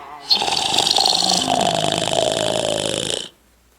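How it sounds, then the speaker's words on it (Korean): Loud, continuous snoring attributed to the wolf from Little Red Riding Hood, a rough rasping drone sustained for about three seconds before cutting off abruptly, heard alone and close. "아니 누가 저렇게 심하게 코를 골지?"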